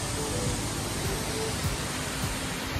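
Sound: waterfall rushing

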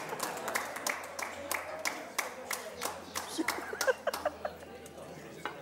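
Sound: audience applause for Ángel

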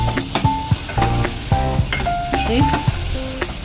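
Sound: onions frying in oil with salt for misal

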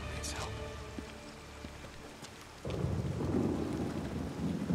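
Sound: thunderstorm with rain in video game Days Gone

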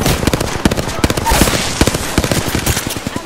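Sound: gunfire at the player in a video game

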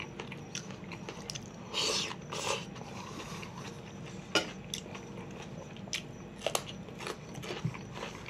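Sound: biting and chewing olives with salmon

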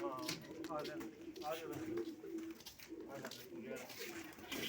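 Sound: pigeons cooing

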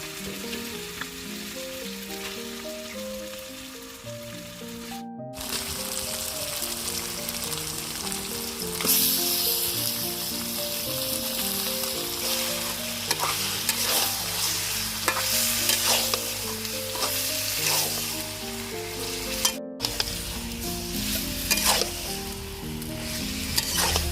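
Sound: marinated chicken added to fried ginger and cumin, sizzling

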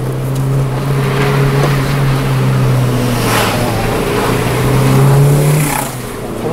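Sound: Volkswagen Lupo GTI driving downhill

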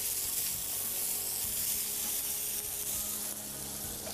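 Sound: frying in a pan

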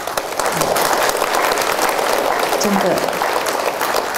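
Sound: applause from audience at Buddhist Dharma assembly

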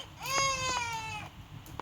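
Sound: baby crying in a video game

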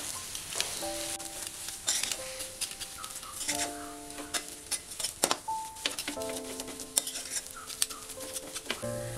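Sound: stirring and mixing red spinach kofta mixture

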